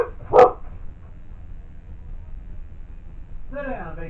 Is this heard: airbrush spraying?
no